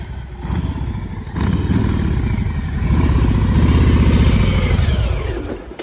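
A Harley-Davidson Street Bob 114 motorcycle engine rumbles close and loud with a deep, pulsing V-twin throb, swelling as it revs and then settling back, with no talking.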